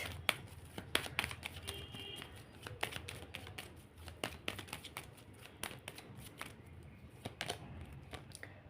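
Tarot cards being shuffled by hand during a candle reading, with a steady run of soft, crisp riffling taps and flicks that sound close and quiet against a faint background hiss.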